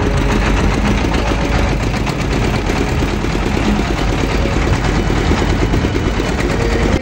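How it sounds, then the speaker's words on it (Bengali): A trawler boat's engine chugs steadily and loudly up close while crossing the river at the Babuganj ferry ghat in Barishal, a continuous low throbbing drone with rapid knocking pulses and a layer of rushing wind-like noise throughout, no voices. "নদীর উপর দিয়ে বয়ে আসা হাওয়া এবং ট্রলারের শব্দ"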